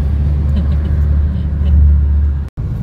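A steady, close, low rumble of road traffic and idling or slow-moving vehicles, a constant drone that cuts out briefly near the end.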